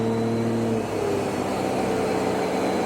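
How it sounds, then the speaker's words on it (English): A Cummins diesel truck running with added fuel, its engine holding a steady, loud drone as it drives, with a slight shift in pitch partway through. "So we're driving right now."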